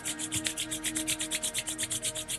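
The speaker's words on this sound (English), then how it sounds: "rub the palm together" Palms rubbed briskly together during a yoga exercise for varicocele, a steady rhythmic swishing of about twenty quick strokes, close and clear with no talking.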